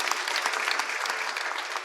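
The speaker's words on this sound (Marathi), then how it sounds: "त्यांच्यासाठी जोरदार टाळी वाजवा" Audience clapping loudly and steadily at a comic kirtan performance, a dense, continuous burst of many hands that stays even for the whole two seconds with no voices over it.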